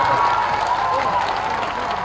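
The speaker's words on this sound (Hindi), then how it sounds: "अब जिसको जिसको ताली बजाना है बजा लो।" A crowd applauds at an outdoor political rally in Saharsa, Bihar, with dense, steady clapping and some cheering from many people.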